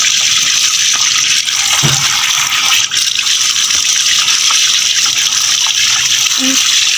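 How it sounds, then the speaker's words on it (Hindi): Tap water gushing steadily into a sink while saag greens are washed by hand, a loud continuous rush with faint splashes and brief background voices. "साग धोया जा रहा है।"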